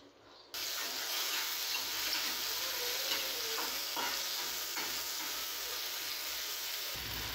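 Steady, close sizzling of lentils frying with spices in a hot pan, with faint scraping as they are stirred, continuous for several seconds with no talking.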